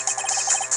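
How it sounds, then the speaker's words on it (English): A phone ringtone plays in the Phoenix Wright: Ace Attorney video game, a brief, close, steady electronic melody of quick repeated tones with no talking. "I heard a phone ring just now."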